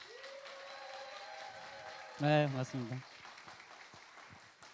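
A church congregation claps a welcome for a pastor at a live worship and testimony concert, a steady soft patter of applause beneath the pastor's voice as he greets them.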